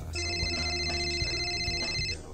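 A telephone rings in a Jollibee restaurant, a steady electronic ringtone with bright sustained tones carrying on for a couple of seconds before cutting off, loud and close.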